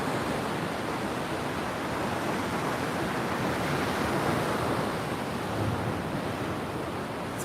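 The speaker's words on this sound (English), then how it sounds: "sounds of the ocean" Ocean waves crash steadily on a San Diego, California shore, a continuous loud, broadband roar of surf with no talking.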